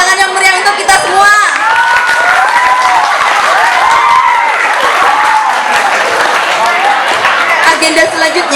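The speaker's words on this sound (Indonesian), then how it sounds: "Tepuk tangan yang meriah untuk kita semua." Loud, sustained applause from a school crowd at a Maulid Nabi celebration, steady clapping with children's cheering and shouts mixed in throughout.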